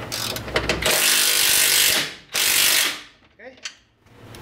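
A ratchet wrench tightens a suspension bolt during a ball joint and control arm replacement on a Ford Focus. Two close, loud bursts of rapid clicking ratcheting are separated by a brief pause, then a few fainter clicks follow.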